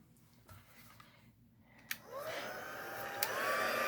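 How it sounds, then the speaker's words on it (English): An embossing heat tool switches on and blows steadily, its airy whir rising and holding close by while it melts embossing powder, preceded by a few faint handling clicks. "how the embossing tool will melt that powder and we get a really nice image from that"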